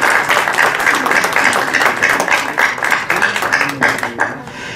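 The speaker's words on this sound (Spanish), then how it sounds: "Les pido un aplauso muy fuerte para la maestra María Luisa María" Audience at a forum on the regulatory law for Mexico's constitutional Article 123, clapping for the mayor of Jalapa. The applause is loud and fairly close, with uneven, separate claps that thin out toward the end.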